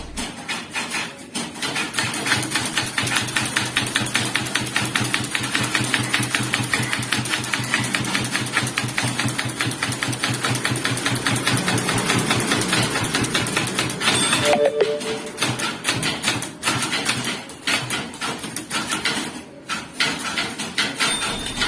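English text is typed on a typewriter. Rapid, steady strikes run for about fourteen seconds, then a short pause, then sparser clacks resume, with no talk.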